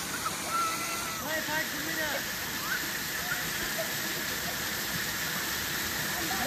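A waterfall near Shokhuvi village in Chumukedi makes a steady broadband rush that fills the whole clip and stays even and constant, while faint voices can be heard talking underneath.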